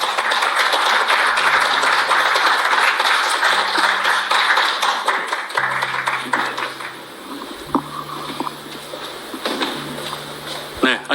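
Audience applause greets a guest presenter at a talk concert, a dense steady patter lasting several seconds, with low sustained tones and voices mixed in beneath it.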